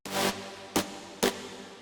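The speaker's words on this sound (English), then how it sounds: "Then there is this synth step, which sounds like this." A synth step from a future rave dance track plays alone: one longer bright, noisy stab followed by two short, sharp hits at an even pace.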